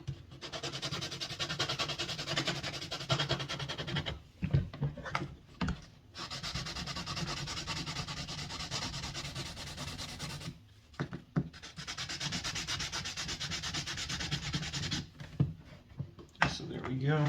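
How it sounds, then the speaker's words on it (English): Light hand sanding on a small piece, a close, raspy rubbing in long back-and-forth bursts separated by short pauses, with brief breaks where the strokes stop. "We're just sanding down a tiny bit."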